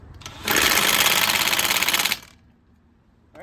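An impact wrench drives a CV axle nut through an 80 foot-pound torque limiting bar, hammering in one continuous loud, buzzing rattle for about a second and a half before cutting off into near silence.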